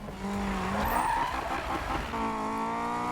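A front-wheel-drive Honda Integra DC5 slides through a corner in the racing game Need for Speed 2015, with a loud, continuous tire squeal riding over a steady engine drone that shifts pitch midway.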